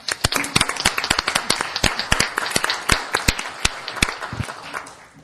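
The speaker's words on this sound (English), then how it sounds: "we'll give you guys a salute and a round of applause" A small group at a city council meeting gives a round of applause, with sparse, distinct hand claps close by in an irregular but brisk rhythm, loud and crisp throughout.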